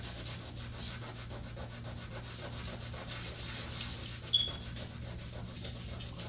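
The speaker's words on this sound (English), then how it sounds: "you need to rub a little bit harder, but it does come out completely" Scrubbing at a rust stain on a linoleum floor, heard as a soft, steady rubbing in quick repeated strokes under a low background hum, with one brief louder knock partway through.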